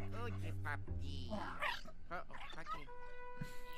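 A ghost puppy in the Luigi's Mansion video game yips and whimpers in short, excited bursts. Game music and effects play around it, and a person talks over parts of it.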